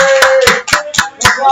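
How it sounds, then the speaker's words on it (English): Scattered hand claps at a live open-mic comedy show, five or six sharp separate claps in a loose rhythm, close and loud, with no talk over them. "everybody give a clap for Sergio"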